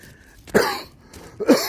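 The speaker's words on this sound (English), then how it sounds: "Excuse me for my hacking and coughing" Two rough, congested coughs from one person, close and loud, the second slightly longer, separated by a short quiet pause.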